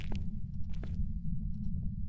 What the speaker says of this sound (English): I hear footstep.